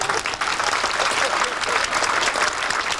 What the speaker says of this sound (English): Let's have a round of applause for Dan.